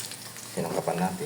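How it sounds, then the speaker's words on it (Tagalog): Cauliflower pieces frying in hot oil, a soft bubbling sizzle that starts partway through and rises with a few crackly bursts, heard under brief speech. "Ayan, prito natin."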